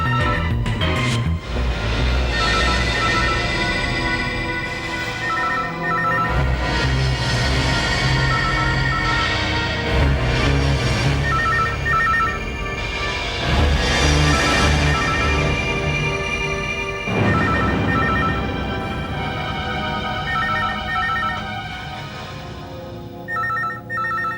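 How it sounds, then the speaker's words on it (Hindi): A telephone rings repeatedly over about twenty seconds, its electronic ring pattern recurring in regular bursts amid a dense, loud background. "अमिता प्लीज फोन मत उठाना।"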